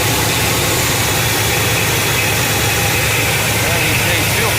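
A 1978 GMC 1-ton dump truck engine with a faulty, leaking fuel pump runs steadily, a loud, dense, close rumble with constant broadband roar and no pauses, while a person talks over it.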